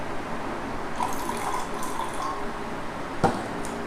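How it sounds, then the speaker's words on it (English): 100 ml of water pours steadily into a container holding 2 grams of copper sulphate, a continuous trickling splash with a faint clink near the end. "I am pouring 100 ml of water."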